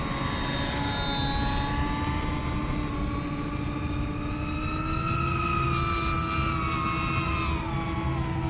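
A Bixler RC model airplane drones overhead with a continuous electric motor whine whose pitch slowly rises and falls as it climbs and passes, steady and moderately loud.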